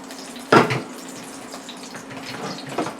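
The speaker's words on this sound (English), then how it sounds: "So I'm going to drain the water off of them." Water splashes and drains off cooked ramen noodles in a kitchen, with one sharp pour and clatter early on, then a faint trickle and a softer splash, and no talking.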